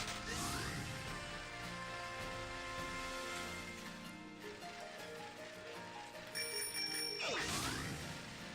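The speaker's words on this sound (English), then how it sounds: "Ring bell for shiny." A bicycle-style bell rings repeatedly on a shiny Pokémon hunting stream, bright metallic dings with lingering ringing tones, loud and close, with a second burst of rings near the end.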